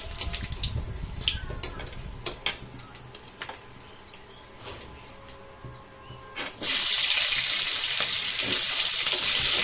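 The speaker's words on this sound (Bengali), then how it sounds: "জিরা দিয়ে দিলাম তেলের উপরে" Cumin seeds dropped into hot oil while cooking fried cabbage: faint ticks and crackles first, then a sudden loud, steady sizzle that bursts in near the end and holds.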